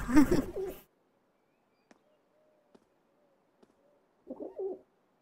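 Pigeons coo softly in the video game Trails into Reverie, low rounded cooing calls with a few faint clicks between them. A voice speaks at the start and again near the end.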